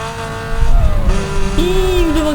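Lamborghini Gallardo engine in Need for Speed: Most Wanted, a loud close revving drone whose pitch slides down and then rises sharply as the car accelerates, under steady game noise.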